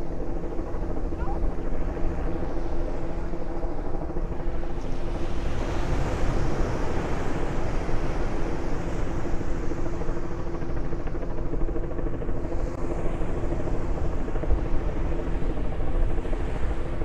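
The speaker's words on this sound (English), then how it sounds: "That news helicopter is right above me now." A news helicopter drones steadily overhead at the Coney Island Boardwalk in Brooklyn, with a low, throbbing rotor rumble blended with wind noise across the whole stretch.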